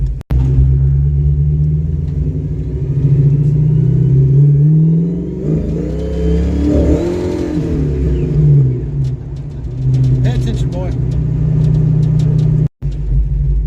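Rumbling Ford Mustang engine, recently fitted with a used radiator, idles steadily and then revs up and back down midway before settling into a low rumble again, loud and close.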